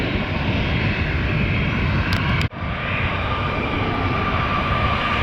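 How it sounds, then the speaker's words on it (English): United Boeing 737-800 jet airliner outbound to Newark, a steady broadband engine roar that holds loud and even throughout, with one brief dropout midway and no talk. "United 8903, outbound to Newark. Boeing 738, still in the old livery."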